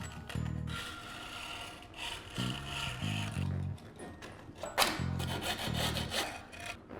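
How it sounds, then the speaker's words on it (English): A skateboard deck edge is rubbed by hand in short repeated strokes, giving a scraping, rasping sound that pauses briefly between passes, close and alone. "Very annoyingly rub it along the side of the deck."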